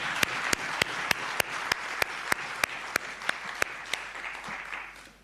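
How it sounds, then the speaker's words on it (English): Audience at a memorial lecture giving a speaker a round of applause, heard as a string of sharp, fairly regular claps spaced about a third of a second apart over a soft background hum, fading toward the end. "Let's give him another round of applause"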